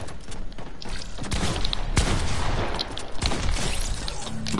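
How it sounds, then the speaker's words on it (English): AK-47 fire in Fortnite, a dense, continuous rattle of shots with booming impacts running through the whole stretch, loud and close with no talk over it. "I'm about to hit you with this AK-47"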